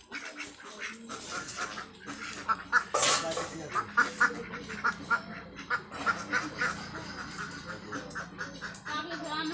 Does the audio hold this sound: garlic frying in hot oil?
no